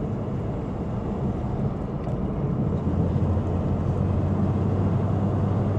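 A car with a 4-speed gearbox merging onto a freeway and climbing toward 65 mph, heard from inside as a loud, steady low engine and road rumble that thickens slightly partway through, with no talking.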